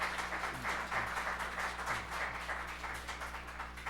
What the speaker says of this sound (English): You applauding for me or for you?